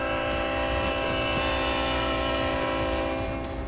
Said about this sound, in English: Thank you for honking that horn for me